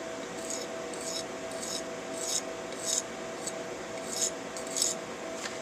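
A knife blade rasps across a Norton Econo sharpening stone in a series of light, regular strokes with a soft scraping hiss, close and fairly quiet over a steady low hum.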